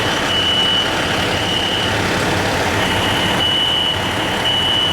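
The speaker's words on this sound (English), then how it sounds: "we're gonna find out why the fire alarm's going off" A fire alarm sounds loudly in a building, its high electronic tone pulsing on and off in repeated bursts over a steady background din.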